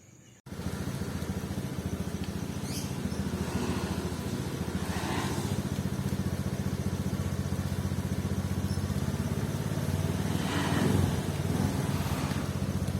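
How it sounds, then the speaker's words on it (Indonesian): A 2019 Honda Scoopy scooter idles at low RPM with a steady, rough engine drone and a faint uneven sputter. The sound is close and continuous, and the engine starts up after a brief quiet moment. "Motornya ini masih sedikit ada berebetnya, jadi ketika bukaan awal masih ada sedikit berebet"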